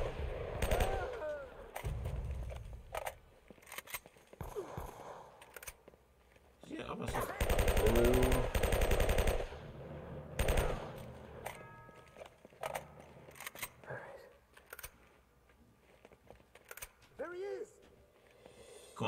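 Gunfire in Uncharted: Drake's Fortune comes as several separate bursts and volleys, loudest near the middle, with quieter gaps between them where a voice speaks now and then.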